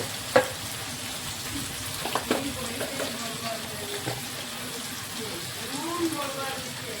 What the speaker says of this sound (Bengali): বেগুনটা এখন আমি ভেজে নেব।